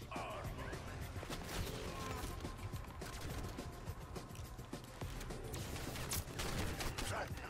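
Continuous gunfire and crashing effects during a Black Ops 6 Zombies boss fight in Liberty Falls, a dense, loud barrage of shots and impacts with a player's voice faintly under it.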